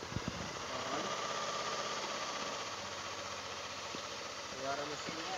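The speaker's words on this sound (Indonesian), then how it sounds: "Suara mesinnya sudah kembali normal. Tidak kasar seperti yang awal kita masuk ke bengkel tadi." A Lexi motorcycle engine idles steadily and quietly after a bearing repair, a soft even running hum with a few small knocks at the start.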